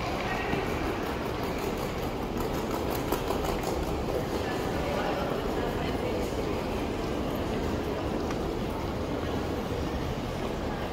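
Train to the airport at Toronto Union Station, a continuous rumbling roar of the moving train with rattling under steady conversation.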